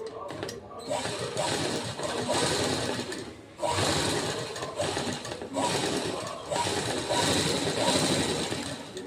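A sewing machine stitches a strip onto a blouse, running fast and steadily close by with a buzzing mechanical rattle and brief pauses between runs.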